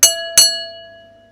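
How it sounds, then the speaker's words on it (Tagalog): A ringing bell signals the start of a boxing sparring match, struck twice in quick succession, bright and close, then left to decay slowly into silence. "tumunog ang bell."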